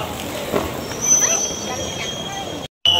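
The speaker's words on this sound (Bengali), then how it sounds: "ট্রেন আমাদের ছেড়ে দিল নিউ বঙ্গাইগাঁও জংশন থেকে" Siphung Express train pulling out of New Bongaigaon Junction, with a steady rolling rumble and thin high wheel squeal close by, briefly cut off near the end.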